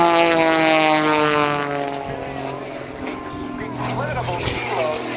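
Patty Wagstaff's propeller aerobatic airplane dives toward the ground at the NAS Oceana airshow, its loud engine drone with a steady harmonic whine shifting in pitch as it passes, with a commentator's voice over the PA.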